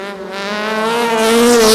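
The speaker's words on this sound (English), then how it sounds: "CJ Mostert definitely running a lot higher revs than that of Nicky Kuchelenberg" A race car engine at an oval track revving at high rpm, a loud close buzzing whine climbing steadily in pitch and volume.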